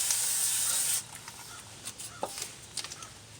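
Brake cleaner sprayed from an aerosol can onto rusty front brake parts of a 1998 Dodge Grand Caravan: a one-second hiss, then faint scattered clicks and rustles.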